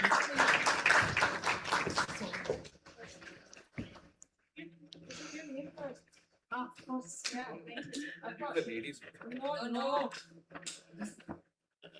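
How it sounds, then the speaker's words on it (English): An auditorium audience at a women's awards conclave gives a round of applause, a loud burst of many hands that fades after a couple of seconds, followed by a person speaking. "a big round of applause to Ms. Malan as well, please"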